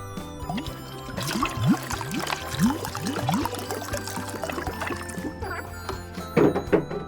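Water is poured from a container into a mixture for homemade DIY clay, with several gurgling, splashing pours and trickles, fairly close, followed by a couple of sharper splashes near the end; no one speaks.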